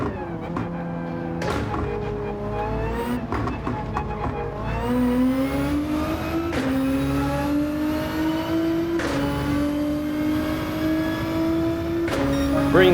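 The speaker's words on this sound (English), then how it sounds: "I could probably be full throttle the whole way through with this one." Race car engine at full throttle in Gran Turismo, a loud sustained whine that keeps climbing in pitch through gear changes. Brief shifts and bumps break the steady roar.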